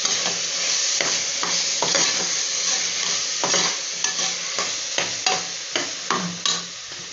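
Ginger garlic paste and tomatoes sauté in a pan, a steady frying hiss broken by repeated scraping strokes of a spatula, close and fairly loud, with no talking.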